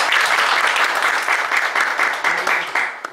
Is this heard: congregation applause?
yes